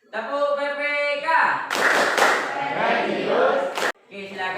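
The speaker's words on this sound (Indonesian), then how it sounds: "mari kita tepuk PPK terlebih dahulu" Classroom students performing the PPK clapping routine, rhythmic group claps and stomps mixed with chanted voices, between stretches of a teacher speaking.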